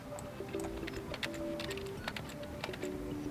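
Soft, rapid keystrokes on an MSI Cyborg 15 laptop keyboard as a PIN is entered, a quick irregular patter of clicks over a faint steady background tone, with no voices.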